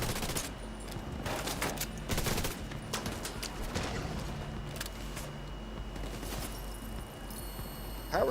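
Sustained gunfire in The Division 2, a dense fusillade of overlapping shots and bursts running nearly the whole time at steady volume, with a final loud burst at the end.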